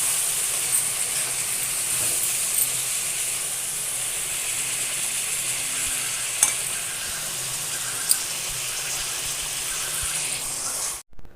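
Brinjal and dry fish curry frying in a pan, a loud continuous sizzle and hiss with a few sharp clicks of stirring, running steadily until an abrupt stop at the end.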